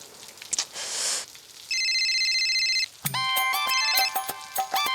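A telephone rings in a comedy scene, with a short burst of noise followed by a steady electronic ring, then a bright, repeated ringtone melody that sounds clearly and close.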